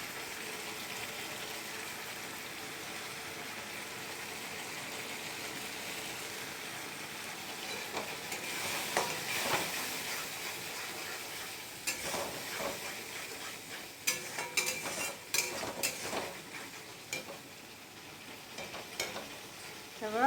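Spices with salt and turmeric fry in oil for a Bengali meat curry, a constant sizzle growing busier as spatula scrapes and clatters against the pan come in during the second half.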